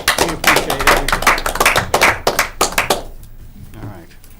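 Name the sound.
meeting attendees applauding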